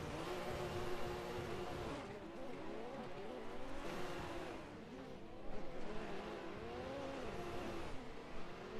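A drift car engine on a track run, revving and wailing in repeated rising and falling sweeps with tire noise, continuous and fairly loud from inside the car.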